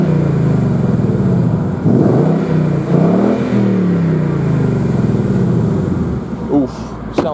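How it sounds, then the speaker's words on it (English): A warm 5-litre Ford Mustang V8 with a sports exhaust revs close by, its raspy engine swelling and falling through several throttle blips, with people talking over it. "I'll just rev the car up and you can get an idea of the raspiness from the engine."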